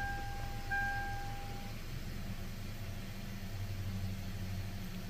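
A Hyundai Elantra 2.0 engine with a large leak, idling with a steady low hum and faint rumble, an unchanging drone at moderate level with no talking.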